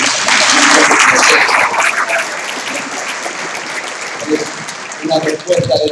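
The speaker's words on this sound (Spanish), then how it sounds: "un aplauso para el pastor Jorge." Church congregation applauding a pastor during an ordination and installation service, a broad burst of clapping that swells loudly at first, then thins and lingers before a few voices and fresh claps near the end.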